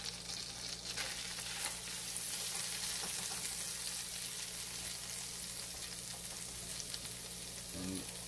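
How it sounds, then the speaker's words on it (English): Butter sizzles steadily in a pan while wild comb tooth mushrooms are prepared for an omelette, a soft continuous frying hiss with faint crackles and one brief clatter near the end. "We got some butter going down here."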